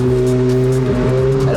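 A Ferrari F430 sports car's engine drones steadily and up close, its pitch shifting slightly as the car drives on. Faint talk may sit beneath the engine.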